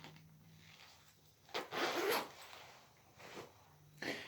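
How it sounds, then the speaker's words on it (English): A vintage bomber jacket is zipped up in two or three quick, close rasping strokes, with a softer rub of fabric before and after. "Let me zipping this up."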